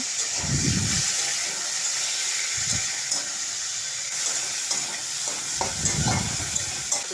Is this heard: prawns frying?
yes